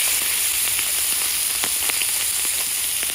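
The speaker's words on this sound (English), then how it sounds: "And look at that sizzle, huh?" Squid sizzles loudly and continuously in a hot frying pan, with a bright hiss and scattered small pops throughout.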